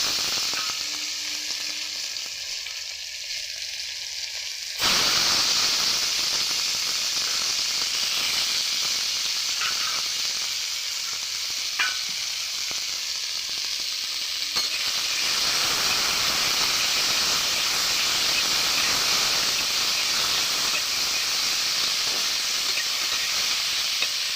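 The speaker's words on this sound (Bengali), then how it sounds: "আর দিয়ে দেবো এখানে কেটে রাখা টমেটো।" Chopped tomatoes hit a hot pan of oil with whole bay leaf, cinnamon, cloves and cardamom, setting off a sudden, loud, steady sizzle and hiss that continues throughout, close up with no talking.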